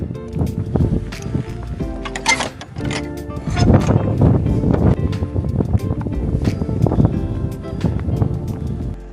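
Strong gusty wind blasts across a hiker on a Snowdon mountain route, roaring and buffeting the microphone in uneven surges, with low rumbling bursts rising and falling throughout.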